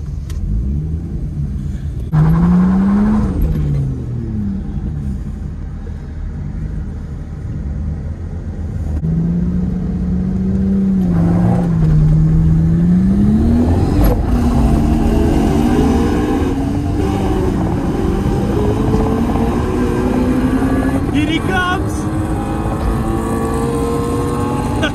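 A turbocharged Lexus IS200 rated at 270 horsepower revs and accelerates hard on a drag strip, its engine rumbling loudly and rising and falling in pitch through several throttle pulls, with brief talk nearby.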